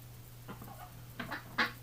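Winter ducks excited at bath time, letting out a few short, faint quacks near the end over a steady low hum.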